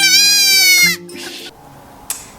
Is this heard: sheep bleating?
yes